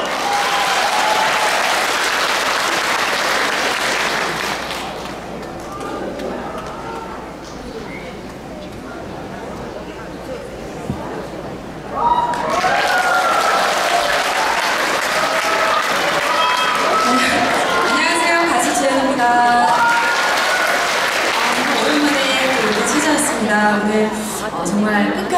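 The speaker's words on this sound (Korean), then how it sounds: "박수!" A studio audience at a televised trot music show claps and cheers in a long, dense wave of applause that dips briefly midway and then swells again, with a host's voice heard over it.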